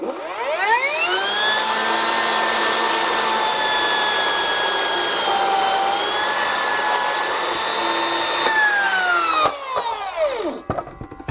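A large cordless circular saw slices a thin piece off a block of mahogany hardwood, its loud whining motor spinning up and holding a steady high-pitched cutting tone for about nine seconds before winding down, with no talking.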